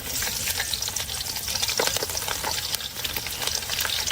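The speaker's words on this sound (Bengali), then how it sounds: "পেঁয়াজ এবার আমি সুন্দর মতন ভেজে নেব" Chopped onions and green chilies fry in hot oil in a pan, a steady dense sizzle with faint stirring scrapes running throughout, close and fairly loud.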